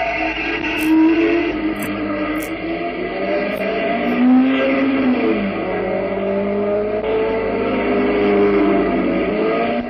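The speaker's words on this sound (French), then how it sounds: "C'est Jean Debien qui essaie de distancer ses camarades d'écurie et qui aborde la ligne droite des tribunes en faisant hurler son moteur." A 1950s racing car screams down the grandstand straight at the Charade circuit in Auvergne, its engine rising and falling through gears while other racing engines whine in the background, continuous and fairly loud.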